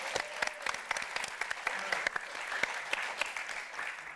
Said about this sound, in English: another round of applause for our wonderful performers at the top of the show tonight